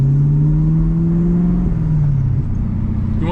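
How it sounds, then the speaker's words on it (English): A 2022 Camaro ZL1 with an MBRP exhaust accelerates, giving a loud, close, continuous engine drone that climbs steadily in pitch and then dips briefly near the end. "How do you like the exhaust? Like the pops, the drone"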